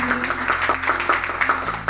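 Applause from an audience at a school counselling presentation, a steady patter of many hands clapping under a low background hum.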